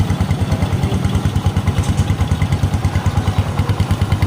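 A Bajaj CT125 motorcycle engine idles after a top overhaul, a steady rapid thumping putter with light mechanical clatter, loud and close with no talk.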